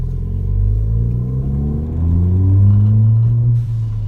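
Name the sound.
car exhaust cans rattling while driving on road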